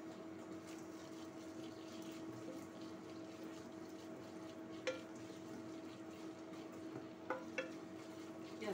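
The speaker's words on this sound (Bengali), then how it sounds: "পেঁয়াজটা ভাজা ভাজা হয়ে যাক।" Chopped onion and minced garlic fry in hot oil in a pan, giving a quiet, steady sizzle with faint stirring clicks and a few sharper pops near the end.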